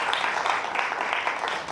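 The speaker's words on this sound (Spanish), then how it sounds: "Dale un aplauso al Rey." A church congregation claps during a service, a brief burst of many hands applauding at moderate volume with a steady, even texture.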